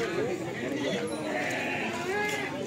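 Young male goats of the PE breed, about two months old, bleating close by amid a pen of kids with floppy ears, with people chatting throughout.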